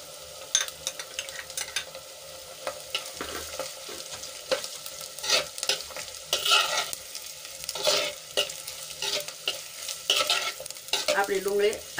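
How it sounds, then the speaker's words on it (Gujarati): Onions sizzling and frying in a pan, stirred repeatedly, with green garlic, ginger and chillies already sautéed, for a green chickpea curry; scraping stirs recur through steady close sizzle, no talk. "આપણી ડુંગળી આછા ગુલાબી રંગની થાય ત્યાં સુધી આપણે એને સંતળાવા દઈશું."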